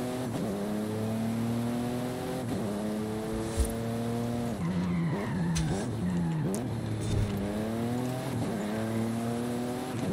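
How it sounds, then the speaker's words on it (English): Tires screech under hard braking in Forza Horizon 5, a Buick with ABS working, in long squealing bursts over a loud engine that drops and climbs again, repeating several times. "You really tell by the screeching when I hit the brakes that the ABS is working fine."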